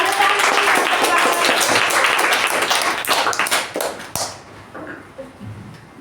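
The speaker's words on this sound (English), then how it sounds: "Let's give a huge round of applause for Toastmaster Chetan" A Toastmasters meeting audience breaks into a dense round of clapping for a speaker, loud and sustained for about four seconds before tapering off into scattered claps and room noise.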